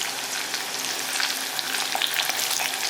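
Ginger, garlic and green chilies sizzling in hot oil in a pan, a dense crackling fry that carries on evenly throughout while it is stirred, close and fairly loud, with no voices.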